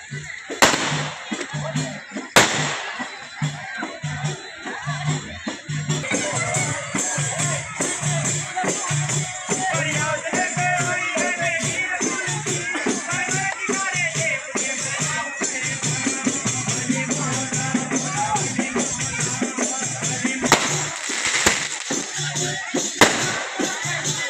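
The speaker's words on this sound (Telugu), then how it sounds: "టపాసులు అయితే కాలుస్తున్నారు చూశారు కదా." Firecrackers set off near a dargah during the Rottela Panduga bread festival, with a few sharp, loud bangs standing out over a dense, constant roar of crowd noise and distant crackling.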